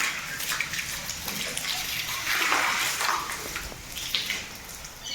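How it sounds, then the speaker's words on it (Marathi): Water splashed and poured during a bath, a continuous sloshing gush with a few louder splashes, close and alone without speech. "मग आता पाणी मारायचं"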